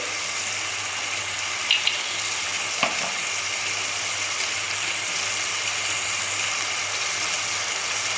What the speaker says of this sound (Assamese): আৰু কিছু সময় ভাজিবলৈ দিম